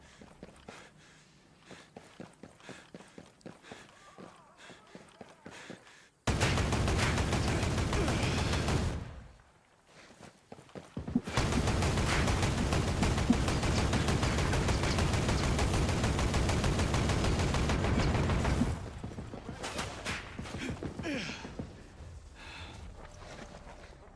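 Video game gunfire made louder by an audio mod: bursts of rapid automatic shots, then long stretches of dense, loud sustained firing broken by short pauses, ending in scattered single shots.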